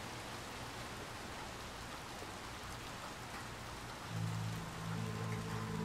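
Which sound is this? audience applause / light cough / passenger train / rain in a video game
rain in a video game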